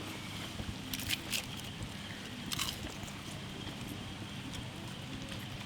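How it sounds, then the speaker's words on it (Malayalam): Light rain falls outdoors during village-style cooking of a large batch of chicken pickle, a soft, steady hiss with a few brief bursts of patter, fairly faint and with no talk. "ലൈറ്റായിട്ട് മഴയുണ്ട് പുറകിലുണ്ടാ."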